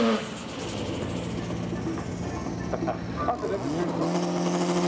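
A front-wheel-drive drag race car makes its run, a loud sustained engine roar with rising tones as it accelerates down the strip, a commentator talking over it.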